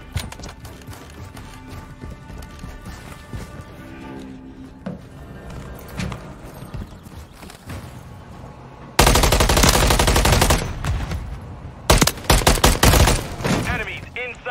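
MCW rifle fire in Modern Warfare 3 comes as dense, loud bursts of rapid automatic shots, with quieter shots and game effects earlier, and a voice speaking now and then.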